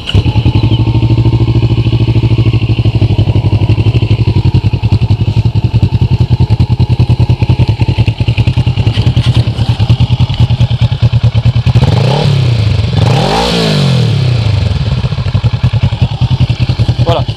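A Yamaha FZ6 or Kawasaki ER6 motorcycle engine starts and idles loudly up close with a steady, throbbing rumble, then swells briefly with a couple of revs near the end.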